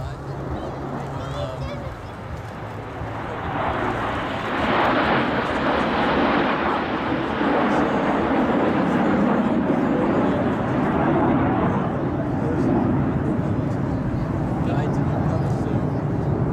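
BAE Hawk jets of the Saudi Hawks display team fly in close formation, a rising distant jet roar that swells and holds steady while a commentator talks over it.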